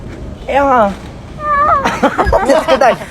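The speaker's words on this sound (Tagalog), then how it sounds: "pusa! Pusa!" A cat meows twice in drawn-out, rising and falling cries, loud and close, and then a person starts talking quickly over some background noise.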